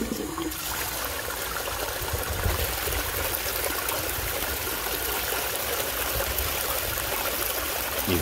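Water flows steadily through a recirculating sluice, a constant dense rushing and trickling wash heard close by with no speech over it.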